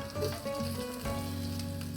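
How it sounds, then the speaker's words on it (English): Bacon frying in a pan for Tex-Mex fried corn cakes, a steady close sizzle with low tonal hum underneath and no talking. "bacon cooking over here"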